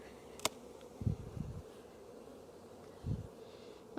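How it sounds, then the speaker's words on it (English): Honeybees hum around an opened hive box during a February hive split, a faint steady drone broken by a few brief louder buzzes as individual bees pass close. "the handhold is full of bees"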